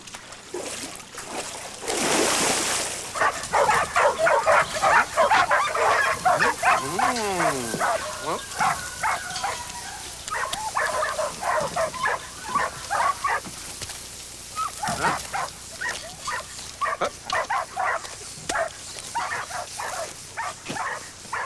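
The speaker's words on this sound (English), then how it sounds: "These dogs have to be the most stupid dogs in the world." Several dogs barking, yipping and whimpering close by in repeated, overlapping bursts, loud and agitated, with voices talking amid the barks.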